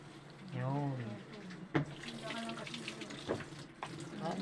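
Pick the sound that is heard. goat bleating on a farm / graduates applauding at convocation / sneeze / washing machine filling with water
washing machine filling with water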